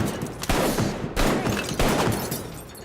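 Gunshots fired at targets in the VR game Arktika.1: three loud, sharp reports about half a second apart, each with a ringing reverberant tail, close and without talking.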